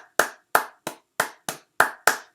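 Seven separate hand claps in an uneven rhythm, sharp and close, at a weekly review gathering, with silence between each clap.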